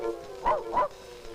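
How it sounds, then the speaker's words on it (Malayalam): A dog in a night-time film scene lets out two close, loud barks in quick succession, alone. "പട്ടി കിടന്ന് ബഹളം വെക്കണ കണ്ട,"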